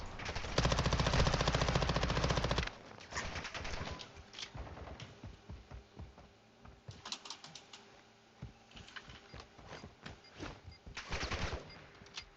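Enemy gunfire in Warzone 2.0 DMZ: a loud sustained burst of automatic fire opens, followed by repeated rapid volleys and scattered shots, some near and some more distant, with no talking.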